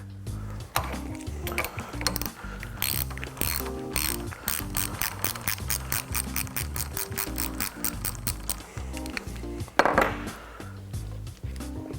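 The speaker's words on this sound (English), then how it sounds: "Use your 15/16 socket to remove the reservoir cap." A ratchet with a 15/16 socket works a reservoir cap loose on a mountain bike shock, rapid close clicking pawl sounds running in steady bursts throughout, with a brief louder clunk near the end.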